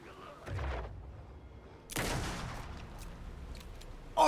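Gunfire in the video game Alan Wake 2, a few sharp shots and bursts spaced across the moment, fairly quiet, with a gamer's voice briefly heard.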